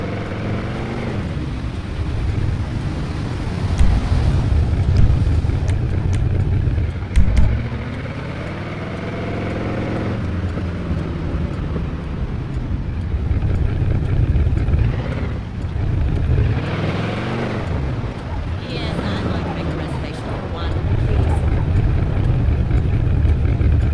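A 1947 Ford Super DeLuxe in GTA 5 drives with a steady mid-pitched engine drone that rises and falls as it revs, with a few brief knocks over the continuous hum.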